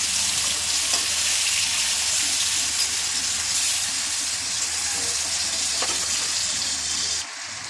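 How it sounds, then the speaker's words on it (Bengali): Pieces of rohu fish frying in oil, a continuous loud crackling sizzle with bright hiss, steady for about seven seconds before it drops suddenly to a lower, quieter fizz at the end. "মাছটাকে হালকা লাল করে আমি ভেজে নেব।"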